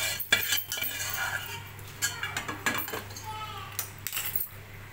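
A spoon scrapes and clinks against a metal pan and bowl as fried dry fruits for sooji halwa are moved across. The taps and scrapes come in a quick irregular series at close range, with no talk.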